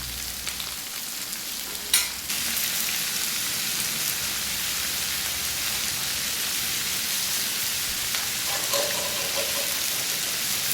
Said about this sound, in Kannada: ನಾನು 3/4 kg ಮೆಣಸಿನ್ಕಾಯಿ ಹಾಕ್ತಾಯಿದ್ದೀನಿ